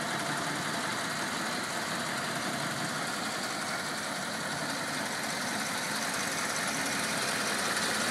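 A 1941 Cadillac convertible's flathead engine idles smoothly and steadily with a low, even rumble and a faint ticking, close by and uninterrupted.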